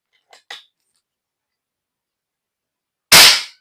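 A wooden 500cc toy cannon is test-fired: a couple of faint clicks, a long quiet pause, then one sudden, loud, booming bang that rings out and fades quickly.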